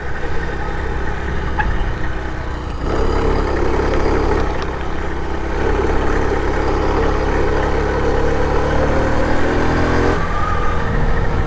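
A 49cc four-stroke motorized bicycle runs steadily while being ridden, its small engine droning loud and continuous with a low rumble throughout, the pitch shifting slightly as it accelerates.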